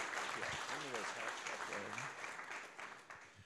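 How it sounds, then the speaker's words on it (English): Applause from an audience at a breakfast event on energy in Pinal County, a steady round of clapping that tapers off over a few seconds, with a voice speaking over it. "So let's give another round of applause"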